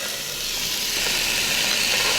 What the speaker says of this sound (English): So I'm gonna put the salt and pepper side down. And we'll just let this sear just a little bit.